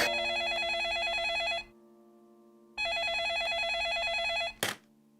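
An electronic telephone rings in two long trilling bursts separated by a pause, loud and close, with a short click at the end.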